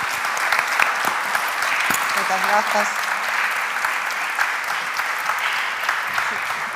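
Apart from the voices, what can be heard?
audience applause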